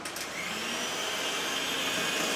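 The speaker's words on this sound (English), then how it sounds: "we put 3/4 cup of butter in here, and along with that goes 1 cup of sugar. And we're going to mix that up" Electric hand mixer whirring steadily as it creams butter and sugar for a coffee cake, a continuous motor drone that starts abruptly and holds at an even level throughout.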